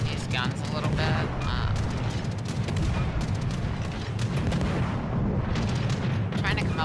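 Friesland ship guns fire in a naval video game battle, a dense continuous barrage of booming and rapid shots that runs throughout while a voice talks over it.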